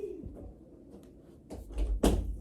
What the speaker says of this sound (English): Okay, I have to close the door.